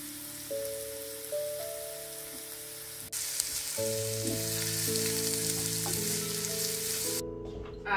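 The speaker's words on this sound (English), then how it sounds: "I'm going to cook the onion first with some olive oil in the cast iron pan, and give them a bit of a cook" Onions fry in olive oil in a cast iron pan, giving a steady, even sizzle that runs throughout beneath a layer of background music.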